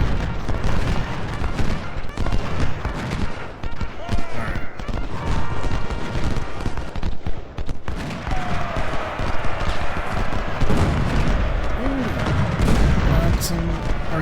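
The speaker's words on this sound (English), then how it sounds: "Artillery." Artillery booms and rolling musket fire sound continuously in an Ultimate General: Civil War battle, a loud, dense barrage of overlapping blasts with a spoken voice briefly mixed in.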